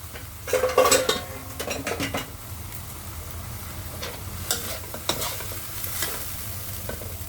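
Rice vermicelli noodles with cabbage, carrot and wood ear mushroom sizzle in a hot pan while a utensil scrapes and stirs, with clinks of metal against the pan near the start.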